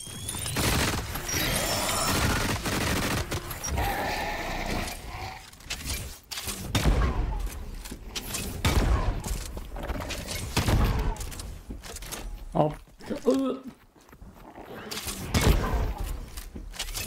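Legendary guns firing in the video game The Cycle: Frontier, with scattered bursts of shots mixed with clanks and other game effects at a moderate level, and a voice occasionally heard.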